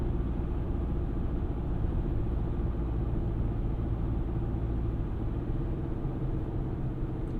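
A 2023 Chevrolet Colorado WT pickup engine pulls under acceleration, a steady low rumbling drone heard from inside the cab, constant and unbroken with road noise and no speech.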